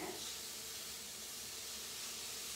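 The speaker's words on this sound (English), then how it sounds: "You can hear that sizzling," Fresh spinach sizzles in a hot pan with a faint, steady hiss of steam and frying throughout.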